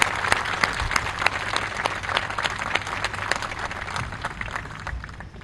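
An audience applauds at the inauguration ceremony of the naval corvette PNS Tariq, a dense, sustained round of clapping from many hands that stays close and steady throughout.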